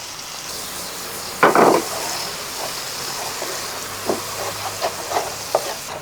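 Butter melts in a pan while paneer butter masala is being prepared, giving a soft steady sizzle with a louder scraping stir and several brief clinks of a utensil against the pan, close by.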